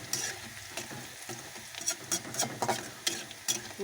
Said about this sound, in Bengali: লাল লাল ভাজা হচ্ছে